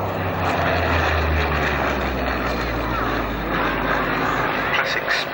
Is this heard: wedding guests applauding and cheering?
no